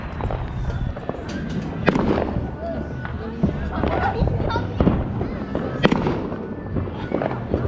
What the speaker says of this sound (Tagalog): Maganda yung ano yung fireworks na sa kabila.